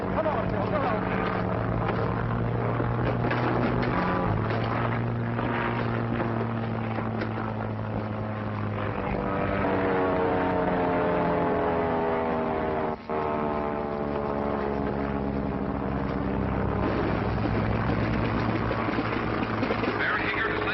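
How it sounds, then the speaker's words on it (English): A propeller airplane engine drones steadily and loudly as the plane lands in a field, with a shifting harmonic hum that sounds partly masked by voices talking over it. "Baron Hegard is landing in the field"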